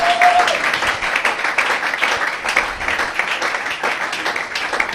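A church congregation applauding, a dense, loud wash of clapping that swells and dips throughout, with a short held tone at the start.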